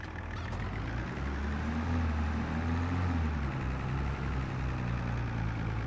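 Tractor engine in Farming Simulator 22 running steadily at a low idle-like drone, a continuous heavy rumble with a faint mid-pitched tone, fairly close and alone throughout.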